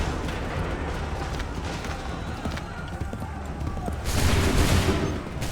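A musket volley goes off in Assassin's Creed III, a sudden loud burst of massed gunfire near the end, following a stretch of busy battlefield clatter and hoof-like thumping.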